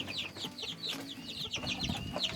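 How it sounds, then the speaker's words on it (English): Chickens clucking in a backyard coop in Oklahoma, a busy scatter of short chirps and clucks from several birds overlapping at close range, fairly quiet. "I think they're roosters."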